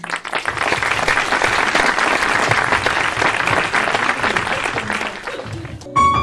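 A concert audience applauds a singer with sustained, loud, full-room clapping for over five seconds, then tapers off as a short musical tone begins.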